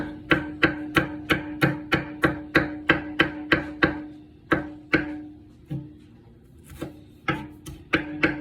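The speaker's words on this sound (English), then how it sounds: "So you want to take your 1 clove of funny shaped garlic and chop it up." Knife chopping one garlic clove on a board, a quick run of sharp, evenly spaced close-up chops with a short pause partway through before the rapid chopping resumes; no talking.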